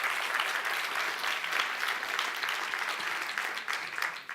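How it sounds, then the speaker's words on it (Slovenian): Sustained audience applause at the closing event of a partnership programme, an even wash of many hands clapping from a mid-distance hall, fading slightly at the end. "Še en velik aplavz."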